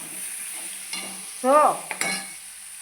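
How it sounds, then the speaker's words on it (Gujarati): Cooked rice is tempered in a hot pan with onion, tomato and chillies. A steady, fairly faint sizzle runs under a few stirring scrapes, and a short spoken word cuts in midway. "જો ભાત વઘારું છું."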